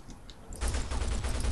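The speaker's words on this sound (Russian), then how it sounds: "Сейчас будет два выстрела и не будет хэда." Gunfire in Counter-Strike 1.6: after a quiet half second, a loud burst of shots erupts and continues as rapid, dense firing to the end, close and dominant.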